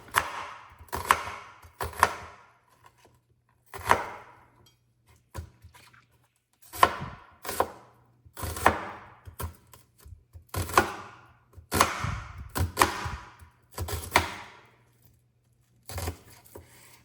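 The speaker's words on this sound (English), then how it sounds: "start by peeling an onion and roughly chopping it" Knife roughly chopping a peeled onion on a cutting board for a vegetable stir fry: a series of crisp, close chopping bursts in irregular clusters with short pauses, no talking.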